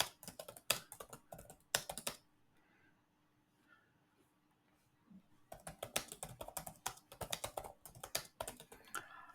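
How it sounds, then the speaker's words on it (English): Bursts of rapid clicking keystrokes on a computer keyboard, close and crisp, with a quiet pause in the middle before the typing resumes. "Let me type it this way"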